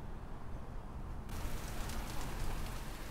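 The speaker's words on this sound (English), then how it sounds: "it's starting to rain now, finally" Rain starting to fall outdoors at a campsite, a steady hiss of drops on surfaces that thickens and brightens partway through, with no voices.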